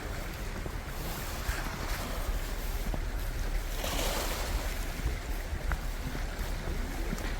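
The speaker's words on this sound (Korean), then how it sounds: "바닷물 파도 소리도 너무 좋은데" Sea waves wash steadily against a breakwater by a red lighthouse at a fishing harbour on Geoje Island, a constant broadband surf roar mixed with wind buffeting the microphone, with no talk.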